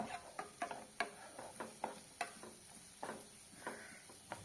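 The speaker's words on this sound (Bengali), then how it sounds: "এই সব ভেজিটেবলসগুলোকে দু থেকে তিন মিনিট ভেজে নেব" Mixed vegetables for peri peri pasta frying lightly in a pan, a quiet background sizzle broken by regular scraping and clinking of a spatula stirring, roughly two strokes a second.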